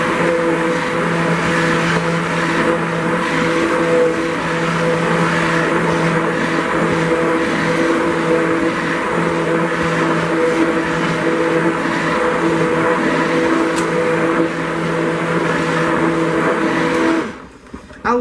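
A KitchenAid stand mixer whirs with a steady, loud motor hum while mixing cream and coconut milk for cold process soap, then shuts off abruptly near the end.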